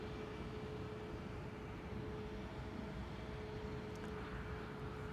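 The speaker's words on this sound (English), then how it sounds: "I am hearing airplanes passing overhead. That's a twin jet, almost directly in my zenith." A twin-engine jet passes almost directly overhead near Amsterdam Schiphol Airport, a steady, even broadband roar that holds at the same level from start to finish with no talk.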